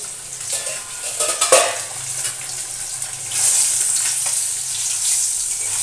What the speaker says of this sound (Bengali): নতুন ঢাকনা দিয়ে মাছ ভাজছি